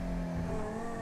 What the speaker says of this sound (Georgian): ხმას ძალიან მაგარი აქვს მანქანას.